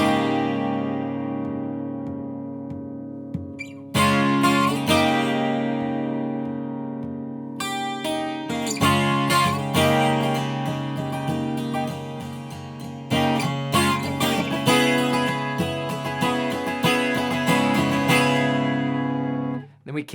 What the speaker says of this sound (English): I am gonna be playing this song on a 12-string guitar